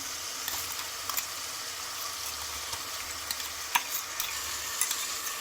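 Green chili paste frying in a pan while being stirred, a steady soft sizzle with faint scraping stir clicks throughout, fairly quiet and without talk.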